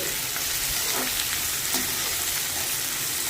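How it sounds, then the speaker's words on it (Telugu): Onions and green chillies fry in hot oil for an okra curry, making a dense, continuous close sizzle with faint stirring, no voices. "ఆనియన్స్ పచ్చిమిర్చి వేసి వేపుకోవాలండి"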